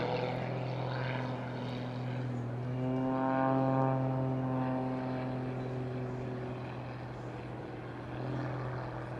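Pitts S-2S aerobatic biplane engine drones steadily during a display flight, its propeller pitch rising and falling as it maneuvers, heard continuously and fairly loud with no talk.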